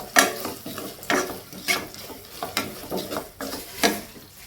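A spoon stirs turmeric and red chili frying in a pan for a chicken dish, scraping in about six evenly spaced strokes over a low, steady sizzle, close and clear with no voices.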